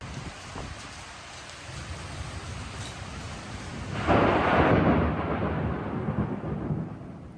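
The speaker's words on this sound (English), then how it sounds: "they're pretty short thunderclaps" Thunder rumbles during a cyclone-like storm with steady rain, heard from a balcony: a faint early crack, then a loud, broad roll of thunder that swells midway and slowly fades under continuing rainfall.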